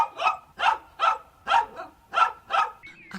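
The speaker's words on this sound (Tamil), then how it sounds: "அட ஆமா, நாய் குலைச்சிட்டு இருந்தது." A dog barks seven times in a steady, evenly spaced series, each bark sharp, close and clear against a quiet background.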